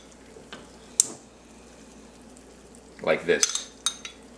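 Brief bursts of frying and clattering as an egg and tomatoes cook in a pan, with a short busy stretch of sizzle and utensil scraping near the end and a few words spoken.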